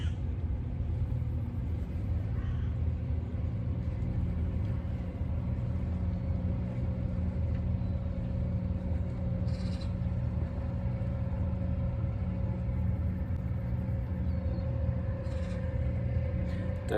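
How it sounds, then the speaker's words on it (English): Two small racing boats motor into a harbour, their engines a steady low rumble and drone that holds throughout at a moderate distance, with no voices. "There's two little racing boats just coming into the harbour."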